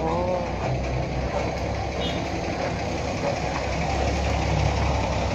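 A Nissan UD truck engine idles close by with a heavy, continuous low rumble and slight knocking texture, steady and loud throughout with no talking.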